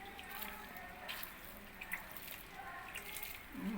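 Water sprinkles by hand over freshly planted portulaca cuttings in a pot, soft splashing and dripping spatters, faint and close, with brief patters.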